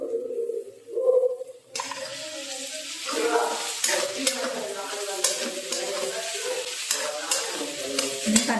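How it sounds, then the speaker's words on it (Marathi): Chopped onion, capsicum and carrot sizzle and stir-fry in hot oil in a home kitchen, with a loud continuous crackle and repeated scraping stirs of a spatula near the pan, and no speech. "आता कांदा टाकलेला आहे तेलामध्ये. आता शिमला मिरची आणि गाजर"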